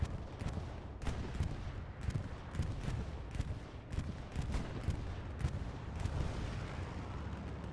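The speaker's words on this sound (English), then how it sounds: "getting bombed again, the line with an absolute savage bombing run" A savage bombing run in a war video game battle: loud, dense, continuous explosions mixed with rapid gunfire and artillery thuds, with no talk.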